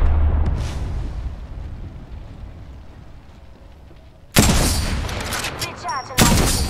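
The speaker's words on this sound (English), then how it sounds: "Throwing thermite grenade." Thermite grenade thrown in the Apex Legends video game: a loud burst of gunfire-like crackling erupts after a quieter stretch, followed by a second sharp blast near the end.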